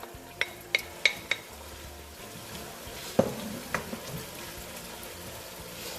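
Chopped onion tipped into beef frying in oil in a pan, with a few sharp knocks and clatters of the pan and utensil over a soft sizzle, then a quieter stir.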